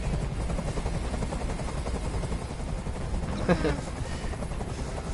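Helicopter in the video game Detroit: Become Human, a steady, droning rotor chop that fills the scene at moderate loudness throughout, with a voice speaking over it and a brief sharp burst midway.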